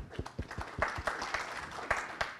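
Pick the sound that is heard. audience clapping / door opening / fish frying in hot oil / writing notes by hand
audience clapping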